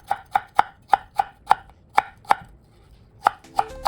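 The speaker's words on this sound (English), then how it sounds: "Cut the ginger into thin slices." Ginger sliced thin with a knife on a cutting board, a dozen crisp, evenly spaced chops close up with a short pause near the end, no speech.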